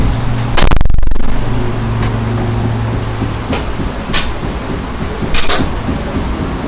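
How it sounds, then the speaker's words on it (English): A door shuts with a loud close thump near the start, followed by a steady indoor hum and several sharper knocks and clicks later, with no talking. "Close my door."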